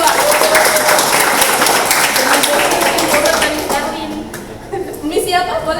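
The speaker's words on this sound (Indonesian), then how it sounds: "Tepuk tangan dulu dong untuk Metodis 2." A school audience claps loudly for a team at a high school debate event, dense applause that fades out over the last second or two.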